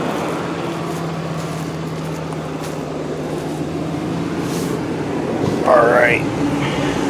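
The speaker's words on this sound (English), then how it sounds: "Let me turn the fan down so you guys can actually hear." Ventilation fan in a 1997 Ford Explorer Limited V8 blows a steady, fairly loud broadband whoosh inside the cabin, with a faint low hum beneath and a brief squeaky rustle near the end.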